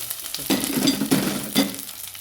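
Curry leaves, chili and garlic sizzle in hot oil in a pan for a pickle, a steady frying crackle with a few louder bursts as the pan is stirred, close and without talk.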